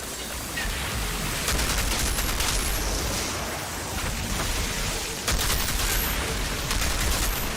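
Gunfire in the Outriders video game, dense continuous rapid shooting from a heavily modded gun blending into a constant roar, loud and close throughout with no talk.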